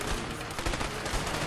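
Dense, continuous gunfire in A Way Out, a steady wash of shots and bursts during a chase with police roadblocks, loud and unbroken for the whole short stretch.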